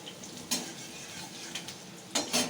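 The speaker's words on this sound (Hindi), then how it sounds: "छौंक दें सब्जी।" Vegetables sizzling as they are tempered in a pan, a steady frying hiss with a few sharp clanks of a spoon or utensil against the cookware, close by and without talk.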